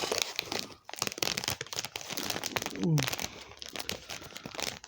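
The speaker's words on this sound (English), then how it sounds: "if I hold it there and just gently pull it apart, yeah, lovely, and then we can just peel it back" A Cadbury Mini Eggs chocolate bar's wrapper is peeled open, giving a run of close crinkling and tearing crackles with a brief voice in the middle.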